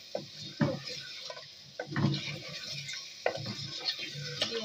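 A spoon works through thick nihari in a pot, giving close, steady stirring scrapes and soft wet churning with a faint sizzle underneath.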